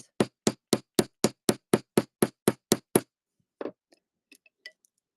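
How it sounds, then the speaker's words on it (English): A hammer flattening a piece of craft wire for handmade jewelry, striking eleven quick, evenly spaced blows, then a few faint, scattered taps after a pause. "you can hammer this flat"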